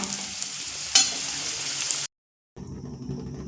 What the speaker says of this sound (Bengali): অন্যদিকে কিন্তু আমি পটল ভাজা বসিয়ে দিয়েছি পটলটা কিন্তু আমি রিফাইন তেল দিয়েই ভেজে নিচ্ছি